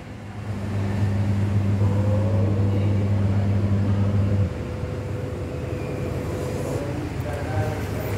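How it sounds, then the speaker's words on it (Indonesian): Samsung WA80H4000SW top-load washing machine running with a steady low hum that drops in level partway through, continuing as a quieter even drone. "Lalu pada mesin cuci Samsung kita bisa lihat juga."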